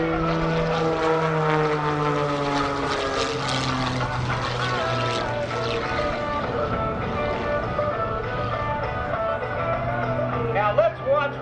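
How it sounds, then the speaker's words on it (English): Aerobatic propeller airplane with a 360 horsepower engine in a torque roll at the NAS Oceana airshow: a steady, loud droning engine whose pitch bends and wavers as the plane rolls, heard throughout with a faint announcer voice. "He rolls the airplane to the left, being turned by that 360 horsepower motor in a torque roll"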